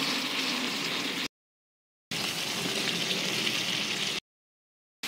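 Fried potatoes going into a pan of tomato and chicken curry, a steady broadband sizzle that breaks off into silent gaps and resumes, close and moderately loud with no talking.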